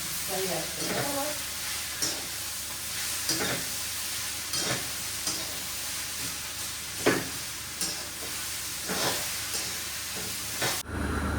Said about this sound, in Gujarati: અત્યારે હવે આપણે આ બાજુ અડદની દાળનો વઘાર કરી રહ્યા છે, અને આ બાજુ વઘાર કરી રહ્યા છે આપણે તુવેરના દાળનો